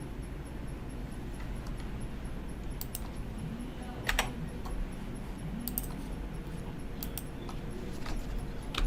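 Computer keyboard typing while entering a sudo password and OpenVPN username during AWS VPC and EC2 setup: scattered soft key clicks, a few quick clusters, over a steady low background hum.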